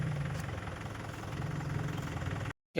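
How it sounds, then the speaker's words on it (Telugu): A tractor engine idles with a low, steady knocking rumble, moderately quiet, before a brief cutoff near the end. "మొత్తానికి ఇప్పుడు ట్రాక్టర్ వచ్చింది"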